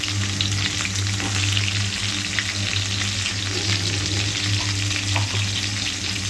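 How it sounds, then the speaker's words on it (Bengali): Potatoes and cauliflower frying in oil in a wok make a loud, continuous crackling sizzle close by, with occasional stirring and a low steady hum underneath, without speech. "যদি একটু তেলের মধ্যে আমি ভেজে নিই কড়াইতে আমি একটুখানি ভেজে নেবো"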